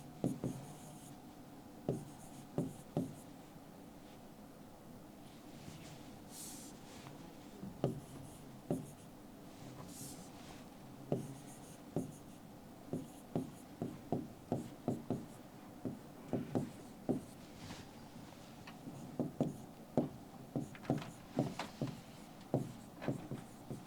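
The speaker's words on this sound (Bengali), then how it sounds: "সো আমরা লিখি ফর এক্সাম্পল" A pen moves across paper as an example paragraph is written by hand: faint, close scratching with many short strokes and ticks repeating steadily over a quiet background.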